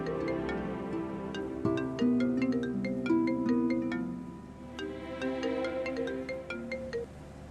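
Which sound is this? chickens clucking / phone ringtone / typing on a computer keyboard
phone ringtone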